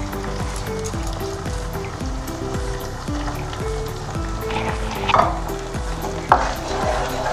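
Fish kalia masala sizzles in a pan while a spatula stirs and scrapes in a steady repeated rhythm, with a couple of louder clinks near the end.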